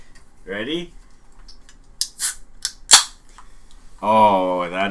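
A drink is cracked open with a few sharp snaps and a brief hiss between stretches of talking, close and clear.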